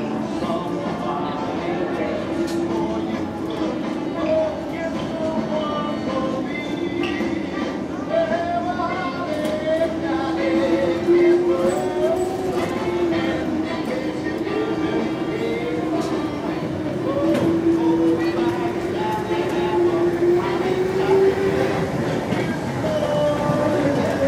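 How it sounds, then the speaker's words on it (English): A train rumbling past with a steady rolling roar and faint rhythmic clatter, a muffled voice now and then beneath it. "Comes a train."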